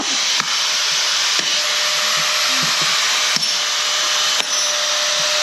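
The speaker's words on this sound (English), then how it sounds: "you have that squealing noise you hear on these dewalts" DeWalt angle grinder running continuously with a high, steady whine and squeal, broken by a few brief ticks and dips, loud and close with no talk.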